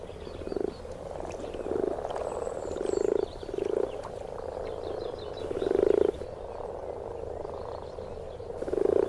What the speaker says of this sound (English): The males croak to advertise their intentions.